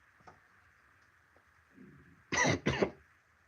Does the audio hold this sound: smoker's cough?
yes